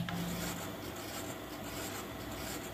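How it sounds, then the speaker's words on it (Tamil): An angle grinder motor runs after a new 6004 bearing has been fitted, giving a steady, close, raspy whirring hum that holds constant throughout with no speech. "நான் வந்து இப்போ பேரிங்கை போட்டு இப்போ ரன் பண்ணி காட்டுறேன்,"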